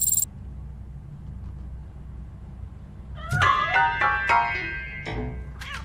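A cat meows several times from hiding in Robocop: Rogue City, a short burst of rising and falling cries after a quiet stretch, then another meow, fairly close and clear over a low hum.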